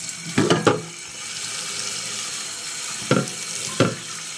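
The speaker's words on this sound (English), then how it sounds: "I'm gonna wash the Seamoss again" Sea moss is washed under a running tap, with a steady water rush broken by a few louder splashes and handling sounds near the start and end, and no voices.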